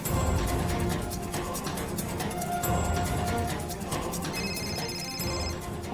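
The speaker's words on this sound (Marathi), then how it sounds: "कोणाचा फोन वाजतो? ओवीच्या बॅगचा आवाज येत असतो बघा." A mobile phone rings from inside a bag, its electronic ringtone repeating faintly and slightly muffled over about six seconds with no talk.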